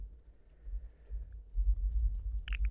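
Typing on a computer keyboard, a run of soft, close key taps with a low background hum, the clicks growing denser toward the end.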